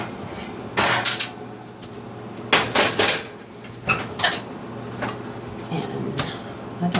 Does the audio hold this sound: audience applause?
no